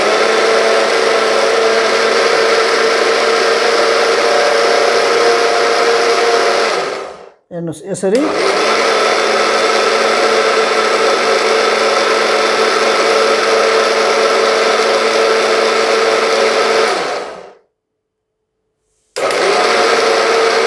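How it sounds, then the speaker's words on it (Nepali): An electric mixer grinder blends semolina appam batter with a loud, steady whirring roar. It cuts out briefly, restarts, then stops for a couple of seconds near the end before whirring again. A voice speaks briefly. "सामग्रीहरु हामी मजाले मिक्सरमा मिक्स गर्छौं"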